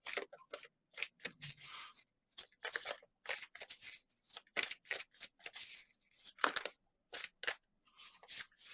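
Tarot cards are flipped and handled in a rapid series of short, crisp snaps and slaps, close and irregular, with brief silences between bursts and no talking.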